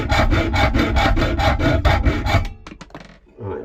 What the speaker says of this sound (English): So I'll just give it a cut, saw it down, give it a bit of a saw.